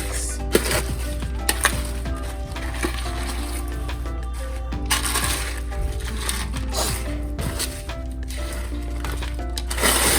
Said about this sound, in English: Now we're going to mix until it's fully saturated